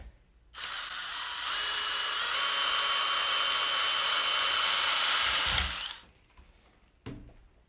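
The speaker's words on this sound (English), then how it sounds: "You would grip onto the aluminum rod, and then screw." A screw is driven onto the aluminum rod of a chicken cage, held with a grip, producing a steady high-pitched whine that lasts about five seconds before stopping, followed by a few quiet handling knocks.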